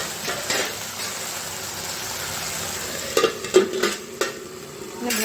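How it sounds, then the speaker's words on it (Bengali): Okra fries in a pan over a medium gas flame with a steady sizzle, then a few scraping, clinking stirs of a spatula against the pan toward the end. "গ্যাসের ফ্লেমটা মিডিয়ামে রেখে আমি ভালোভাবে ভেজে নেব।"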